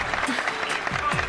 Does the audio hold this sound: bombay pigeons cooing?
no